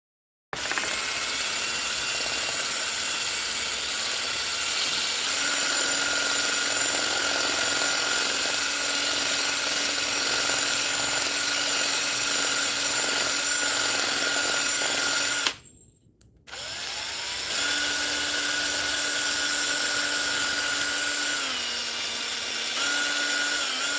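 A power drill unscrews a screw from a wooden jig, whirring in a long steady high drone that cuts out briefly near the end before spinning up again, loud and close with no talk.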